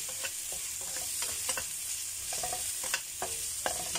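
Chicken and onion stir-fried in a pan, with a soft, steady sizzle broken by repeated scraping and clacking as a spatula tosses the pieces, close and fairly quiet.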